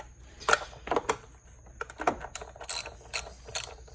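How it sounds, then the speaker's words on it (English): A 10mm socket ratchet loosening a bolt during a power steering hose replacement on a 2004 Hyundai Sonata: scattered bursts of clicking ratchet and metallic clatter, close and moderately loud, without speech. "Get this off, it's just a 10mm socket, super easy."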